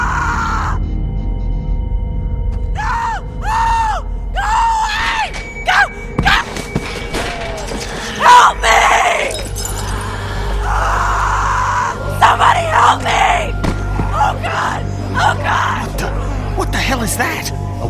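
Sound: girl screaming in The Walking Dead video game

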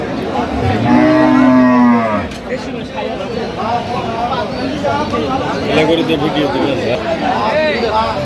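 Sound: cattle mooing at a livestock market

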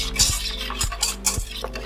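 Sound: mixing beaten eggs and brown sugar in bowl

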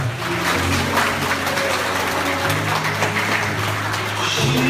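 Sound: wedding guests applauding bride and groom

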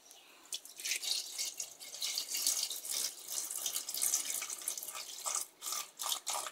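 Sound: milk being poured into a pot

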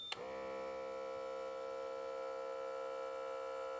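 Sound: Microlife blood pressure monitor compressor running

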